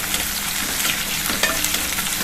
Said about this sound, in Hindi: हम इसमें आलू डाल देंगे। आलू को भूनेंगे